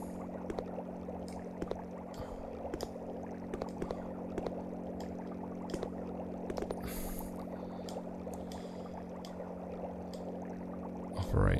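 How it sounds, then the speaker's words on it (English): In Resident Evil Code Veronica X, oil pours from a cylinder into a 10-litre tank as a steady liquid rush over a constant low hum, with light clicks scattered through it and no voices. "Supply oil to the 10-litre tank using the 3 cylinders."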